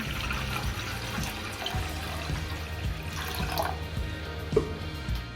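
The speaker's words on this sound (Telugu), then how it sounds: "ఇప్పుడు స్టవ్ పై గిన్నె పెట్టుకొని సూపుకు సరిపడా నీళ్లు పోసుకోవాలి." Water poured into a pot on a stove for vegetable soup makes a continuous, fairly close pouring and splashing sound with low gurgles, steady throughout.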